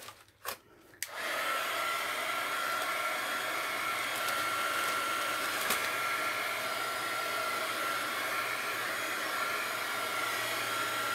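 A hair dryer dries Apple Barrel craft paint on an art journal page; a few soft knocks come first, then the dryer starts and runs as a steady, close whooshing hum with a faint whine for the rest.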